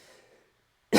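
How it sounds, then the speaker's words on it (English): A single sharp cough, close and loud, bursts out at the end after a stretch of faint low background, set off by tasting a 425,000 Scoville capsaicin extract. "It's actually giving me a cough now."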